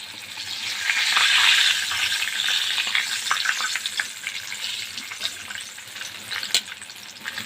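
Breaded chicken panee frying in hot oil gives a loud, dense sizzle that swells early then settles into a steady crackle with occasional sharp pops, close up and without speech.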